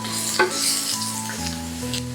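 Onion and carrot sizzle steadily in hot oil, with a brief clink of a utensil and a faint background hum.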